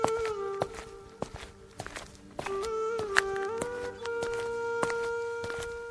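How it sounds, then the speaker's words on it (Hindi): A sadhu's footsteps as he walks up to a landlord's door, with steady, evenly spaced steps laid over soft sustained background music. "फिर वो चलते चलते जमींदार के दरवाजे पर पहुंच जाते हैं"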